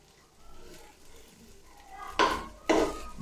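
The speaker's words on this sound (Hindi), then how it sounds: "इनको मैं आहिस्ता आहिस्ता हिलाऊंगा, और इनको मैंने 2 से 3 मिनट के लिए सिर्फ फ्राई करना है" Boiled chickpeas frying in a pan are stirred with a utensil over a low sizzle, with two sharper scraping strokes against the pan near the end.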